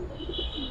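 A male pigeon in a loft gives a soft, low rolling coo, close by, with faint background noise and no speech.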